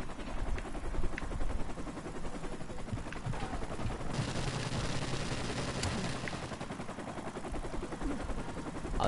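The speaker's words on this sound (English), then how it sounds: "Enemy helicopter approaching!" Enemy helicopter and bursts of gunfire in a video game, a dense, continuous stream of rapid shots and rotor noise running steadily throughout.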